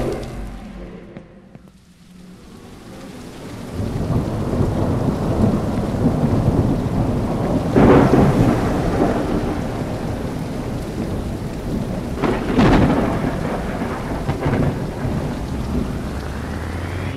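Heavy rain pours steadily in a horror video game while thunder rumbles and cracks twice nearby, the downpour swelling in after a brief lull at the start.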